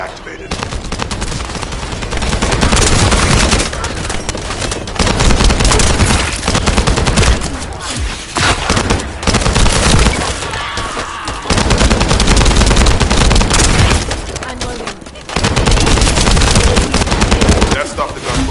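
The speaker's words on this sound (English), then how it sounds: "That stopped the gunfire." Gunfire from the shooter game The First Descendant fills the scene. Dense, loud automatic bursts and rapid shots rattle almost without a break, with a few short lulls between volleys.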